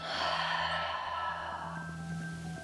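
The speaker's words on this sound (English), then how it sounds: "And a loud exhale" A single long, loud exhale through the mouth during yoga breathing, a close breathy sigh that slowly fades over a couple of seconds, alone with no talking.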